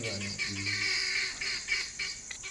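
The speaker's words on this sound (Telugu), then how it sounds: "అవి గిన్నెకోళ్ళు అవి అరిస్తేనే పాములు రావు" Guinea fowl in an Indian village raise a harsh, repetitive chorus of calls, loud and close, in rapid bursts that overlap and continue without pause.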